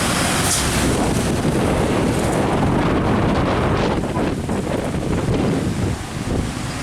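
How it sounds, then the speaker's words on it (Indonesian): Strong wind roars and buffets the microphone beside a road where heavily loaded trucks like an Isuzu Giga 285 PS pass, a loud, continuous rushing blast that barely eases, with no talking. "Anginnya ngebut."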